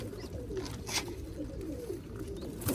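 Black pigeons on a rooftop loft in Sialkot, soft repeated low cooing, fairly faint, with a little background noise and no talk.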